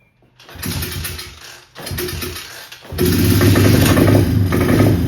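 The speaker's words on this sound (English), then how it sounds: "it runs but it doesn't idle, and it bogs down at lower RPMs" A small 110cc dirt bike engine with a dirty carburetor starts, sputters and stumbles twice, then catches and runs rough and loud, unable to idle and bogging at low revs.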